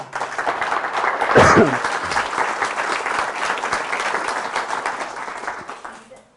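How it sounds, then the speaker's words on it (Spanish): A church congregation at a Catholic homily applauds together, a full, sustained burst of many hands clapping that swells early and tapers off near the end, with a voice briefly calling out over it. "Fuertes aplausos al Señor"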